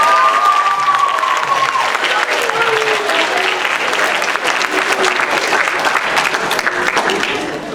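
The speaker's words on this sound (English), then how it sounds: "we'd like you to give your parents a round of applause" Audience applause fills a school spring concert hall, sustained and steady throughout, dense clapping from a large crowd with no voices standing out.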